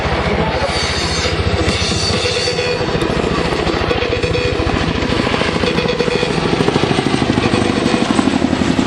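A CH-47 Chinook twin-rotor helicopter at an air base airshow, a loud, close, continuous throbbing rotor chop over a heavy engine roar, sustained from start to finish.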